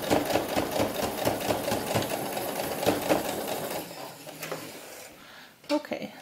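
A sewing machine stitches sheepskin leather for a doll vest with a rapid, rhythmic mechanical chatter that slows and stops near the end, followed by a brief clunk.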